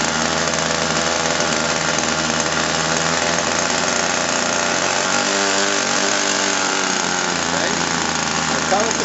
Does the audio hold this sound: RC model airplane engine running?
yes